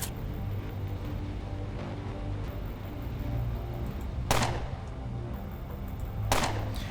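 Two sharp gunshots ring out a couple of seconds apart in the Underrail video game, each a loud crack that cuts through a steady low background hum with no talking.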